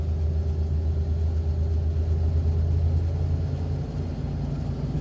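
A van engine idling just after starting from sitting, in mild low-50s breezy weather, a steady close low rumble with an even droning hum throughout, no voices.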